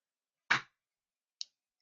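Computer mouse clicks during Revit 2019 structural modelling, two short dry clicks about a second apart, the first louder and fuller, the second faint and sharp, isolated in silence.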